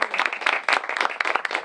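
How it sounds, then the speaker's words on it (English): A small crowd at an elementary school groundbreaking claps for a short burst, the individual hand claps dense and close together. "Let's give her a round of applause"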